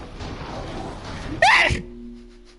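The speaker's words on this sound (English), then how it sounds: "I'm gonna sneeze again." A single sharp sneeze bursts out suddenly from a person playing Resident Evil Village, then settles into quiet game ambience.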